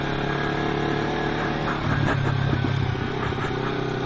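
Kawasaki Versys 300X motorcycle riding along a mild trail, its mid-pitched engine droning steadily and close with a slight rise and rough clatter partway through.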